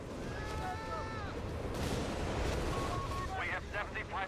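Nebelwerfer rocket artillery impacts land in Company of Heroes 3 as a dense rumbling barrage of blasts under continuous battle noise, with a voice talking faintly.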